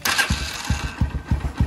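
A motorcycle engine is started after the ignition is bypassed, giving a loud nearby starter crank that becomes a run of evenly spaced chugging pulses as it tries to catch.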